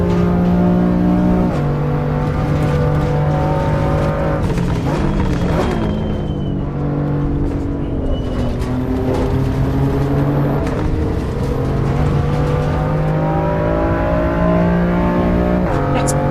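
The race car engine in the Assetto Corsa EVO racing game revs hard and continuously, its pitch rising and falling through gear changes, loud and close throughout with faint voices underneath.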